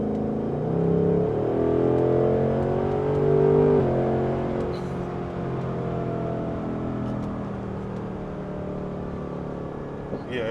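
A 2024 Ford Mustang GT in sport mode accelerates hard, its engine rising in pitch through a shift and then settling into a steady loud drone heard from inside the car.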